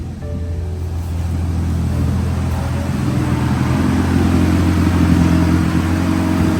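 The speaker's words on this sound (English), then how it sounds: "So now that we know the engine runs good" Rebuilt car engine running steadily after being brought back to life, a continuous low rumble with a constant drone that holds steady and swells slightly toward the end, close and loud with no talking.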